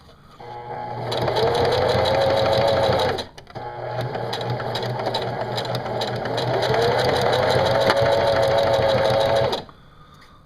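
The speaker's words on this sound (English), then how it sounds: "Whether or not that's appropriate with a zigzag, I'm not sure, but I'm going to do it." A sewing machine runs a zigzag back stitch on a DIY decoy bag, with a loud, steady motor whir and needle chatter in two long runs separated by a brief pause, heard close.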